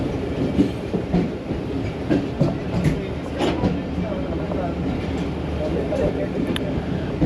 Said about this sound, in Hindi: हमारी ट्रेन भी जो है वो लाला मूसा जंक्शन से मूव हो गई है।